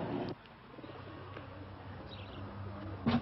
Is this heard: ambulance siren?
no